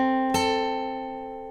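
Guitar with a capo, a single plucked note ringing out clearly and decaying over sustained tones from a song riff, played alone with no talk.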